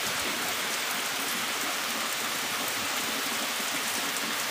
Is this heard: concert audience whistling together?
no